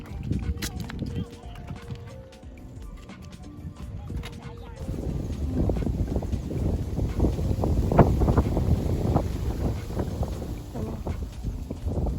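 Strong wind buffets the microphone at a mountain viewpoint overlooking the Lam Takhong dam, a loud continuous rumble with gusts, while someone talks at the start.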